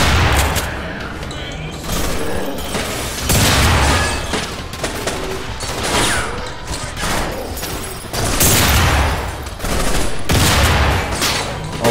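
Gunfire in the video game Underhell comes in loud, dense bursts of rapid automatic shots and booms, swelling and easing in repeated waves, with voices talking underneath.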